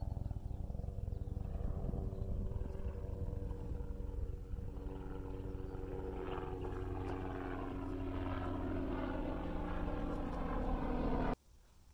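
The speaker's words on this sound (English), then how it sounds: "Little black helicopter." A small black helicopter flies overhead, its droning rotor hum steady and fairly loud for most of the span before cutting off abruptly near the end.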